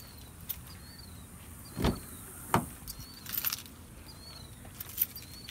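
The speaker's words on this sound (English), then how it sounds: "So I'm going to go and unlock it" A car unlocks with a couple of soft mechanical clunks and faint jingles, then a low hum of door or window motors in a quiet setting.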